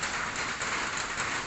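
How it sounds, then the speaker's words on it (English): Steady rain falls outside a house front yard in Cambodia, a dense, even hiss of drops with no breaks, fairly close and constant throughout. "as you can see, it is raining here, of course"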